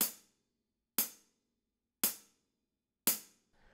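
Four tight, thick hi-hat hits struck with the shank of a drumstick, the pedal held down firmly, evenly spaced about a second apart, each a sharp close crack with a quick decay, plus a faint extra touch at the end.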